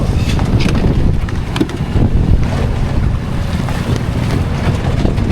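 Loud wind buffets the microphone while water splashes and waves slap against a sailing yacht motoring under engine with sails down at sea, with a low engine rumble underneath throughout.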